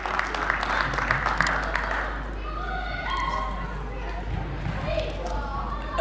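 Applause from an audience at an annual Urdu mushaira poetry gathering of a Pakistani community in Portsmouth, steady and crowded in the first seconds, then thinning as voices talk over the fading claps.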